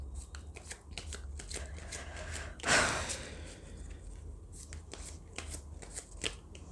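Tarot cards being shuffled during a Hindi pick-a-card career reading: soft riffling and brushing clicks through the clip, with a louder burst of shuffling near the middle, close up and without talk.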